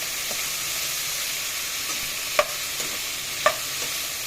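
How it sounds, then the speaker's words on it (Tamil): Chopped ginger sautéing in a pan for channa masala, a steady soft sizzle with a couple of sharp clinks from a utensil stirring against the pan, close and without speech. "இஞ்சி கட் பண்ணி வச்சதை ஆட் பண்ணிக்கிறேன். இதை நல்லா வதக்கணும்."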